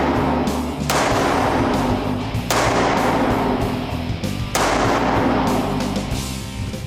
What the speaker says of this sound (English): we're gonna shoot this in low light, and we're gonna just use your iron sights and see what you can do on target